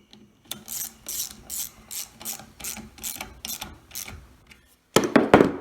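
Ratchet wrench working spark plugs on an engine, a run of about nine quick ratcheting bursts at a steady rhythm, close and clear, ending with a brief pause and a louder flurry of clicks.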